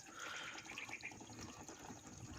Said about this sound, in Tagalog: Ang hina ng tubig guys eh.